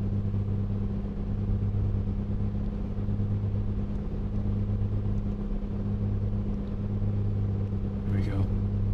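Piston engine of a Piper Comanche 250 in a flight simulator, leaned while running at steady RPM: a constant loud droning hum with a fixed low tone throughout, near and unbroken, with a brief faint higher sweep near the end.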